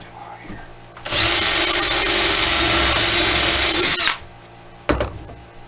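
A power drill drives a quarter-inch sheetrock screw to fasten a piece down, a loud steady whir lasting about three seconds, followed by a brief second burst.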